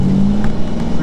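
A 2020 C8 Corvette with long tube headers, no catalytic converters and a Corsa performance exhaust holds a steady 3,000 RPM with the exhaust valves closed, giving a smooth, even, fairly muted drone.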